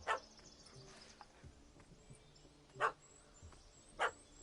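A puppy barks in a video game, giving a few sharp, separate yips spaced a second or so apart, fairly faint over a quiet background with no talking.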